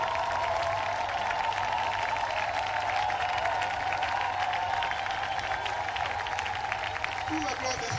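Sustained crowd applause and cheering from a church congregation standing to honour a pastor at a French-language service, steady and full throughout, with voices mixed into the clapping.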